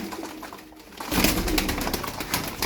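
Domestic pigeons kept for flying and play, some with clipped wings, heard close by as a soft murmur for the first second, then a louder burst of fluttering wing noise and cooing that carries to the end.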